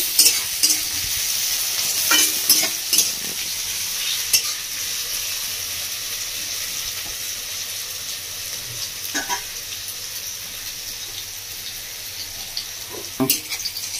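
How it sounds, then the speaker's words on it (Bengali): Onions fry in a pan ahead of potol posto, a Bengali pointed gourd and poppy seed dish, with a continuous close sizzle and occasional utensil scrapes and stirring knocks, no voices. "পেঁয়াজটা আমি একটু ভালো করে ভাজা ভাজা করে নিয়েছি"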